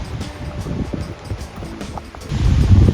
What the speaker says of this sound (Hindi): भाई मैं तो पहुंच गया वाटरफॉल के बिल्कुल नीचे।